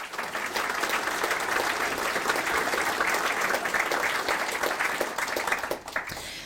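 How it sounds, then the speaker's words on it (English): An audience at a commemoration event claps in sustained, even applause that holds strongly for about six seconds before tapering off, with no voices over it. "we should give a round of applause to those who serve locally"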